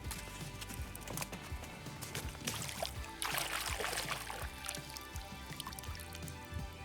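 A fossil sifter is dragged through shallow river water while hunting ancient fossils in Florida, giving a close, steady churning and splashing with scattered knocks and gritty clatter of gravel throughout, swelling briefly in the middle.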